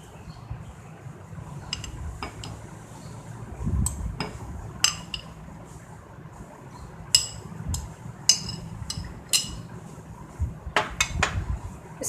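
Chilled oatmeal and fruit being spooned into a dish, with scattered sharp clinks of a spoon against the bowl and soft wet plops, quiet and close, with no talking.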